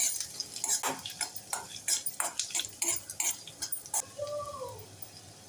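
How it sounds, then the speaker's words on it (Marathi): Chopped garlic, ginger and green chili being stirred in hot oil for cabbage Manchurian, with repeated scraping and clinking of a spoon against the pan in an irregular rhythm and a faint sizzle underneath, close by. "तेलामध्ये आपण बारीक चिरलेला लसूण घालूया बारीक चिरलेला अद्रक आणि हिरवी मिरची हे छान परतून घेऊया"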